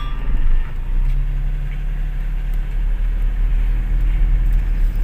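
A car pulls forward during a driving lesson, its engine humming low and steady close by with a brief swell early on, and no one speaking.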